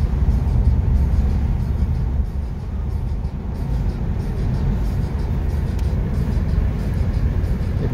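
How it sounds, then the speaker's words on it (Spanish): Road noise on a highway where Oro line intercity buses pass: a constant, loud low rumble of engines and tires with a slight dip midway and no voices. "Ahí vienen los autobuses, creo que es una Oro, así le llaman el tipo de línea Oro."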